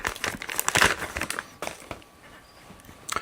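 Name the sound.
unwrapping bubble wrap and plastic bag from block plane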